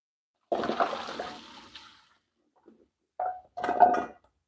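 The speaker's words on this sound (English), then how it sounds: "Let's wash off these things right here." Banana peels are rinsed under running water in two gushing bursts, one long and one shorter after a brief pause, close and with no talking.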